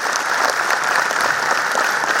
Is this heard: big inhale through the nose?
no